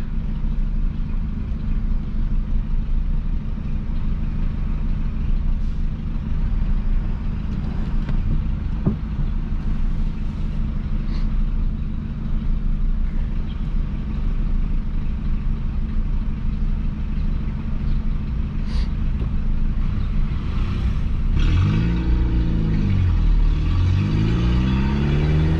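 A Peugeot 206 engine in a park holds a steady low drone for a long stretch, then accelerates near the end with rising, sweeping pitch, close and continuous, with no talking.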